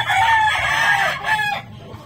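A gamefowl rooster crows once, close and loud, its call rising and then trailing off within about two seconds.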